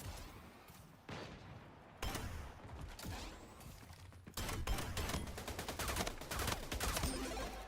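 Pistol gunfire in the game ErenShor, shots in quick repeated bursts that grow louder and denser in the second half, with broadband cracks over a steady background.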